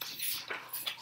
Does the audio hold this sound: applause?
no